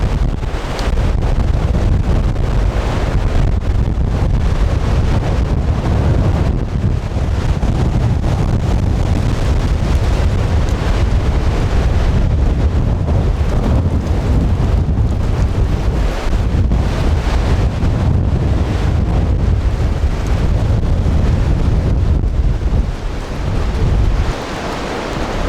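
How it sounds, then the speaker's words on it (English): Strong wind with gusts up to 60 miles an hour buffets the microphone in a continuous, loud rumbling roar, with gusts surging and easing throughout and no voices. "Because of these really heavy winds, up to 60-mile-an-hour gusts"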